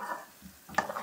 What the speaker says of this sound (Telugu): కొంచెంసేపు ఆయిల్లో ఫ్రై కానివ్వండి